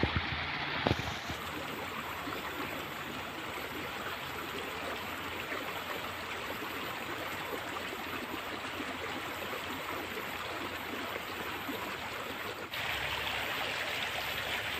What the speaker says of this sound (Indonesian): Kita turun ke sungai.